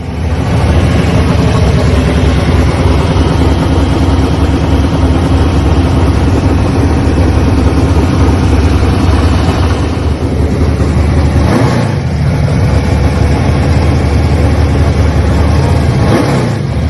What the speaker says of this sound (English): This is Huey's engine. Basically the same type Blue Thunder with race plates on the intake port.